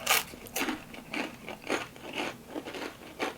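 Close, quiet crunching and biting sounds of someone chewing a mouthful of pasta, with soft irregular bites repeating every half second or so and no talking.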